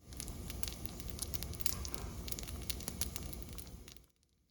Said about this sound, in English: you'll hear the oil frying the bottom of the dough